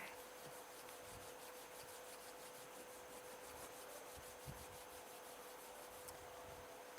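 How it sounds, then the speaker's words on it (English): Palms rubbing gently together at chest level during a live satsang in Rishikesh give a soft, continuous dry swishing, quiet and close, steady for several seconds with faint low bumps and no speech. "bring the palms of your hands together at chest level and rub them gently against each other"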